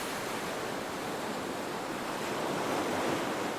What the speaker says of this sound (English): hear the sounds of the ocean lapping at the side of the ferry boat